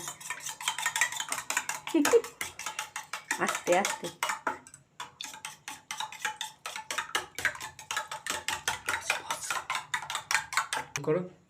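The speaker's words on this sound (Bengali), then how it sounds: "দুটো ডিমের জন্য দুবার নুন নিয়েছে, দিয়ে এবার ডিমটা গুলছে" Two eggs with salt are whisked in a bowl, fast rhythmic clinking of utensil against the bowl repeated over many seconds, with a brief pause and a short spoken remark partway through.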